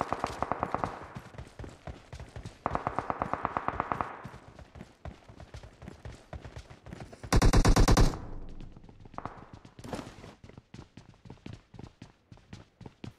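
A Tommy gun fires in rapid automatic bursts in PUBG Mobile, several short strings of shots spread across the stretch, one much louder close burst in the middle, and other game sounds around them.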